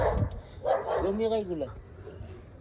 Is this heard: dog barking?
yes